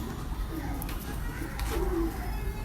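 Low, soft cooing from a large pigeon, a few murmuring calls rising out of steady background hum, with faint voices of children nearby.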